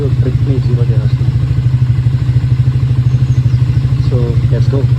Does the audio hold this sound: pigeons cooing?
no